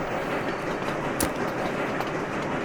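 A train rolls along in the transport sim Sweet Transit, a steady low rumble with faint rhythmic clatter and a single sharp click partway through.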